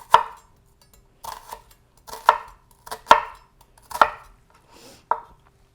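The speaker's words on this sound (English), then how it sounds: "I'm gonna go ahead and cut down vertically" A knife cutting down vertically through an onion on a cutting board, with six or so crisp, separate knocks spaced about a second apart, close and clear against silence.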